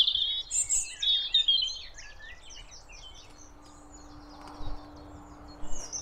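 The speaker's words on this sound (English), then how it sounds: "All you can hear now is just the birds." Birds sing and chirp in bright high trills, several calls in quick bursts over a quiet outdoor background, with a few more chirps later.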